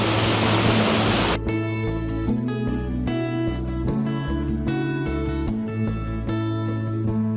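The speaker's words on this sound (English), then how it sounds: "Mini tiny waterfall." Rushing water from a small waterfall on a trail, flowing quickly from a little private lake under a bridge, a steady broadband wash that continues under louder music after the first second or so.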